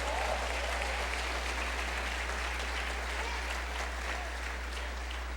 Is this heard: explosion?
no